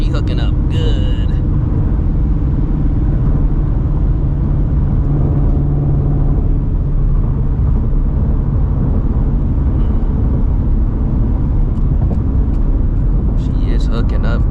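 Supercharged Shelby GT350 on Nitto NT555R2 drag radials pulling hard, a loud, dense engine roar sustained throughout with steady low rumble; a person talks over it at the start and end.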